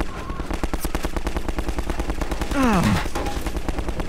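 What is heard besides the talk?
gunfire in the video game Half-Life 2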